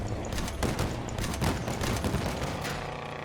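Rapid bursts of vehicle gunfire in the game Crossout crackle close and loud, overlapping shots forming a dense fusillade with no clear pauses for about three seconds.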